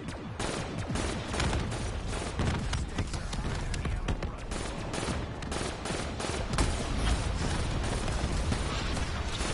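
Rapid, continuous gunfire in a zombie-shooting video game, with dense overlapping shots and bursts, including machine-gun fire, keeping a steady loud clatter the whole time.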